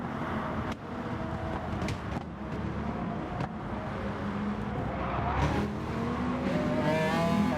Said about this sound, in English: I actually kicked the arse end of the car out just a bit